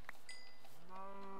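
A cow in the video game Minecraft gives a short, low, droning moo that rises out of a brief, quiet mix of game sounds, without any speech.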